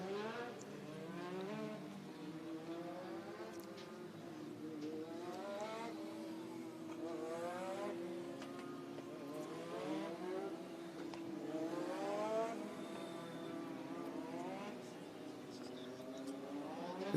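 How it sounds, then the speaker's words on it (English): Legend race cars roll onto the track at an old-school classic racing event, engines revving and shifting in repeated rising sweeps at moderate distance, with a voice talking over the drone. "Cars are hitting the track."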